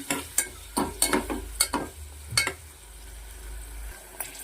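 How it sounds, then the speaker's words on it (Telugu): Onion and green chillies fry in oil inside a pressure cooker, a soft sizzle beneath repeated scraping and clinking stirs of a spoon against the metal pot, close and without talk. "అదే కుక్కర్లో కొంచెం ఆయిల్ అనమాట ఆయిల్ వేసి ఆనియన్ పచ్చిమిరపకాయలు వేసుకొని కొంచెం ఫ్రై చేసుకుందాం"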